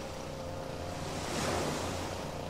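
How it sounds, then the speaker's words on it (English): A waterfall gushes in the video game Elex as a steady, full rushing roar that swells slightly midway, with no voices. "It's the gushing of the waterfall."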